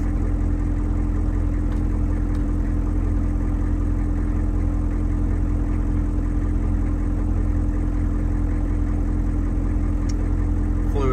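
Truck engine idling steadily after running a few minutes on a cold day around 35 degrees, a constant low rumble with no revving and no voices.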